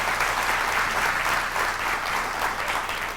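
Comedy show audience applauding, a continuous even wash of many hands clapping at steady loudness, with no voices on top.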